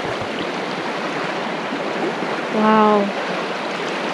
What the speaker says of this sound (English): And there's water right under there.